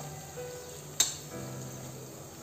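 Four cut green chillies with garam masala sizzle faintly in a pan for soya chunk biryani, a soft steady frying hiss with one sharp clink midway.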